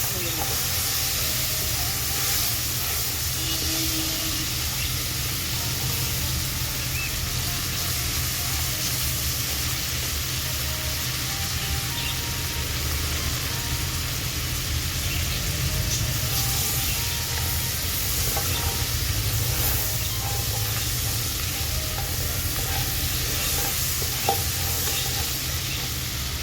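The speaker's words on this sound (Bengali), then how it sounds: "কাঁকড়ার পাগুলো খুব ভালো করে আমি ভেজে নেব।" Sea crab legs fry in a pan while being stirred, a long, steady sizzle and hiss with intermittent scraping and clatter, heard close up for the whole stretch.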